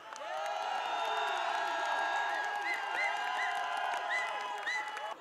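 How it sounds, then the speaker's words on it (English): Audience at a global convention closing ceremony applauding and cheering, steady crowd clapping with tonal whoops and shouts rising over it, continuous throughout. "Please give them a big round of applause."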